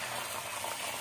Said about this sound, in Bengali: আর একটু সাদা তেল দিয়ে দেবো, ফাটানো ডিমটাকে আমি তাওয়াতে দিয়ে দেব